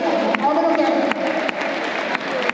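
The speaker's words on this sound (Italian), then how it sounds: "applauso meritato a Elia Fantone della camisetta" Crowd applauding after a verdict at a regional youth boxing championship final, with scattered claps and cheering in a hall while an announcer talks over it.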